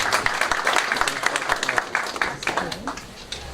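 Applause from the audience at a public forum with Senate candidates, a dense wash of clapping that carries the whole moment at full strength and then eases a little near the end, with some voices mixed in.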